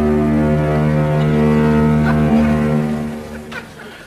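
A foghorn from a nearby foghorn factory gives a loud, sustained low blast that drones steadily for several seconds before tapering off near the end.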